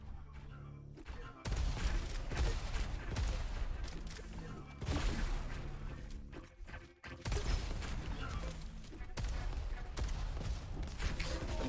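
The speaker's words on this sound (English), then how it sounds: "And Von trying to shoot through the ground there" Gunfire in a video game duel during an amateur league semifinal, heavy bursts of shots and booms coming in long dense stretches broken by brief pauses, with a commentator talking over them.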